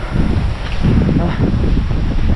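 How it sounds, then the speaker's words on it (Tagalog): Strong wind buffeting the microphone outdoors, a loud continuous low roar with gusty rustling across the whole moment. "Nalakas ang hangin."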